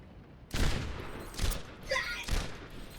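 Weapon fire from the video game Overwatch, fired with quick snap shots, comes as three separate short bursts spaced about a second apart, crisp and fairly close.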